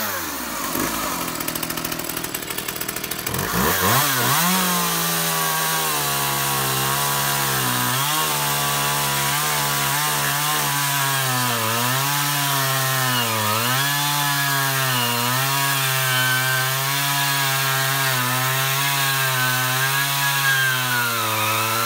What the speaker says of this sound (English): I just made a test cut and it really was like powder, the sawdust